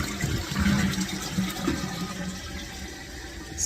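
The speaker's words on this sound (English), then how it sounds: "Alright, let's flush and see." A leaking household toilet flushes with a steady gushing rush of water that holds for a couple of seconds, then eases into a quieter, even flow as the tank refills.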